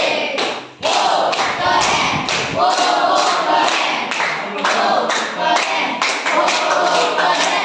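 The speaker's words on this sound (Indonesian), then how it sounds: "Kasih tepuk" A classroom group claps together in a steady, loud, rhythmic burst after a student presentation, with thumping and taps mixed in and brief shouts from the crowd.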